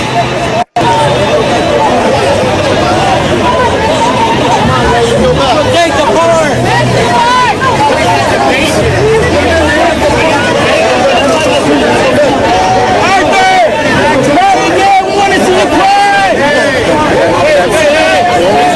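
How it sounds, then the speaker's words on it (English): A protest crowd at Chicano Park shouts and chatters in a loud, continuous babble close by, with voices calling out over the din. "the crowd is getting a little crazy"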